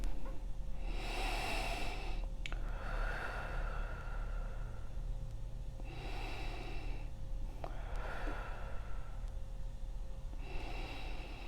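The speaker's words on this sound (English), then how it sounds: "feel free to breathe in and out with me." Slow breathing in and out, paced as a calming exercise before a tarot reading; several long, soft airy inhales and exhales repeat evenly at close range over a steady low hum, with no talking.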